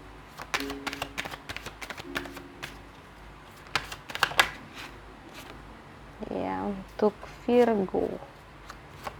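Tarot cards being shuffled and laid out for a reading, close crisp card snaps and riffles arriving in bursts, with someone speaking between and over them.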